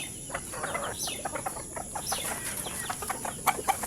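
Gamefowl chickens cluck and chirp in a small coop as they are fed, a busy stream of short overlapping calls nearby over a steady background hum.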